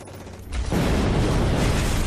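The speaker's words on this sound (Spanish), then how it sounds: "disparos con su MG-42" An MG-42 machine gun in a World War II Omaha Beach battle scene opens up after a quieter half-second, its rapid continuous burst of fire filling the rest of the short clip at high, steady loudness.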